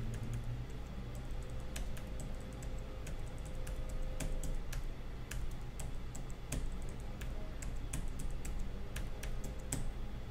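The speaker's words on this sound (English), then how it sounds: "I'm still pressing the keys" Computer keyboard keys pressed repeatedly while playing a 2048-like game, scattered sharp clicks and taps over a steady low background hum, near and without talking.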